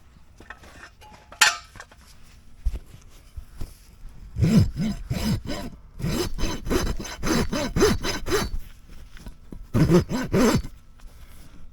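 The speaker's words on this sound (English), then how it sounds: "that is just a couple of swipes with the rasp" Farrier's rasp filing a horse's hoof to prepare it for a shoe: a run of rapid, rough scraping strokes in close bursts, loud and near, with short pauses between groups of swipes.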